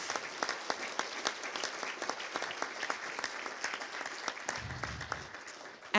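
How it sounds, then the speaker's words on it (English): Audience applause at a citizens' assembly meeting, a steady room of clapping hands that runs throughout, moderately close, then fades slightly near the end. "So let's give them an applause too"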